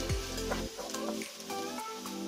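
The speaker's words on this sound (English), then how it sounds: "Saute the onions on high to medium heat until they begin to change colour, then add the peppers." Onions sauté over high to medium heat in a frying pan, giving a soft, steady sizzle with a few stirring scrapes under a tonal background.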